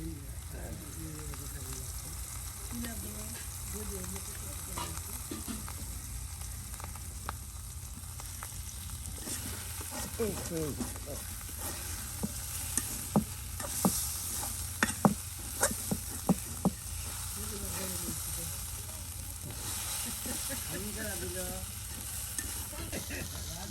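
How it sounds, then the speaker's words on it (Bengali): Eggs with potato are fried and stirred in oil in a pan in a village kitchen, a continuous close sizzle with scraping and tapping of the spatula, peaking in a run of sharper knocks midway. "এই যে ডিম বিরান করে নিল"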